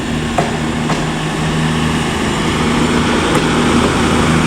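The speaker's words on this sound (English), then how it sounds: "Right, now the cross-country service is departing." A CrossCountry Class 221 diesel train departing Leeds station, a loud, steady engine roar close by with faint clanks over the rumble.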